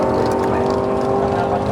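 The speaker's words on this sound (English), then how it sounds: "it was time for the Fairmont to make its final pass" A 1981 Ford Fairmont nine-second street drag car makes a pass, a loud continuous engine roar that holds steady and close throughout.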